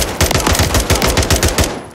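Semi-automatic gunfire in Call of Duty MW3, a loud close string of about a dozen rapid shots in a steady rhythm with heavy low thumps, trailing off at the end, no talking.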